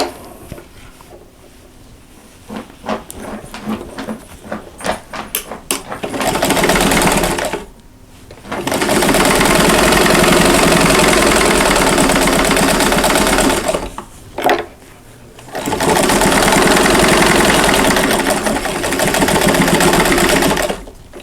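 Sewing machine stitching down a seam on a Christmas mug rug, loud, close rapid mechanical chatter in two long runs separated by brief pauses, after a few scattered clicks and taps at the start.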